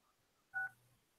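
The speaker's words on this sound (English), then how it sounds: "Press 1 on your keypad." A single dual-tone keypad beep sounds briefly as the 1 key is pressed on a telephone to accept a call, clear and isolated against near silence.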